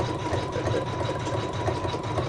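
A sewing machine stitches a crisscross star stitch over satin to secure a coaster edge. Its motor hums steadily with a fast, even rhythmic whir throughout, running close and moderately loud with no voices.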